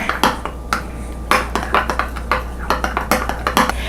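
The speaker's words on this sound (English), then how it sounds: "We'll mix that all together." A spoon or whisk clinks against a bowl while homemade Thousand Island dressing is stirred together, giving a steady run of close, sharp metallic taps and scrapes with no talking.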